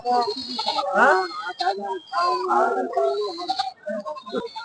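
Goats and a few sheep bleat repeatedly at a busy village goat market, their shaky, wavering calls overlapping one another close by, mixed with people talking in the background.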